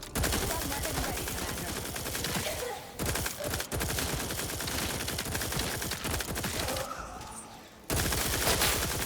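Sustained gunfire from The Outer Worlds 2 video game, dense rapid bursts of automatic shots with a short pause near the end, loud and continuous.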